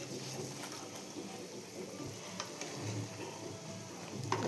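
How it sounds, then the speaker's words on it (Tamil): Fried dried anchovies (nethili karuvadu) go into a simmering masala gravy along with their frying oil, making a soft, continuous sizzle and bubbling with a few faint stirring clicks. "ஆயிலோடவே நான் இந்த கருவாடை சேர்த்திடுறேன்"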